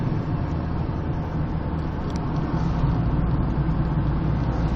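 A car driving at night, with a steady low engine drone and road rumble from inside the vehicle, constant and unchanging, with no talk.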